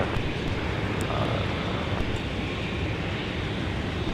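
Airbus A321 airliner touching down at a snowy winter airport, a steady broad rumble of jet engines and rushing air, moderately distant, with no talk.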